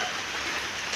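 Steady rain falls outdoors on a wet yard by a banana planting, a dense, even hiss of drops with no breaks, close and constant.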